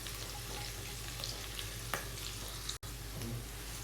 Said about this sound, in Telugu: ఇవన్నీ కూడా సిమ్లోనే ఫ్రై చేసుకోవాలండి